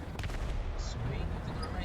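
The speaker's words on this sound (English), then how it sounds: "Oh wait, somebody's firing." Distant gunfire from the video game War Thunder, a short muffled burst under a steady noisy background.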